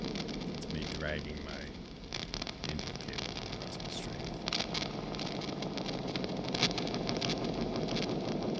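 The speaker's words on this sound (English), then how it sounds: "It's me dragging my input cable across the string." Scraping, crackling textured noise from an input cable dragged across a guitar string through effects, a dense, steady wash with short bursts, fairly loud with no speech.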